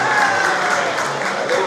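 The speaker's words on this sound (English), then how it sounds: "Let's give Adiola a round of applause again." Audience applause at a Yoruba Day 2018 awards gathering, a steady wash of crowd clapping with murmured voices throughout.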